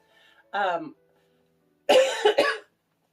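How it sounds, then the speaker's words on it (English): A short voiced sound is followed by a harsh burst of coughing, two or three quick coughs close to the microphone, then silence. "Sorry, still have the cough."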